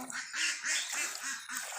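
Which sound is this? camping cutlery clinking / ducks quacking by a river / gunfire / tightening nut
ducks quacking by a river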